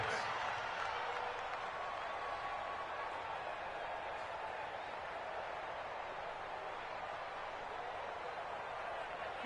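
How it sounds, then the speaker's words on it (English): Crowd noise fills a football stadium during an NFL game between the Falcons and the Lions ahead of a third down, a dense, steady roar that holds evenly throughout at moderate distance. "The crowd getting into it as we come up on a big 3rd down."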